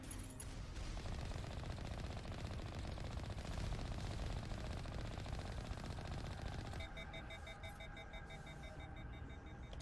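Sustained rapid automatic gunfire in the Mass Effect video game rattles loudly for several seconds, then stops, leaving a high electronic alarm-like beeping tone.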